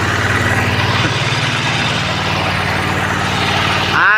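A cement mixer's engine runs on a muddy, rain-soaked construction site, a loud steady chugging drone with a regular pulsing beat, close by, rising slightly at the end.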